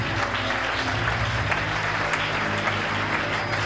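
A church congregation applauds steadily at a Sunday service, a dense, continuous wash of clapping hands filling the room with no pauses, loud and close.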